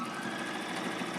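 A sewing machine runs a fast, steady zigzag stitch along the edges of a slippery satin picnic blanket, giving a continuous close mechanical whir with no pauses.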